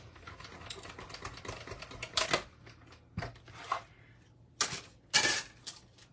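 Paper trimmer slicing cardstock for a Stampin' Up! reindeer card, heard as several short, sharp cutting and sliding bursts near the mic with quiet pauses between them.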